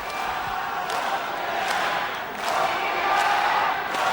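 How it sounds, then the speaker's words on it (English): Boxing arena crowd in Osaka at a WBC super flyweight title fight, a steady roar of cheering voices throughout with brief shouts and swells rising toward the end. "Crowd really getting behind Tokuyama"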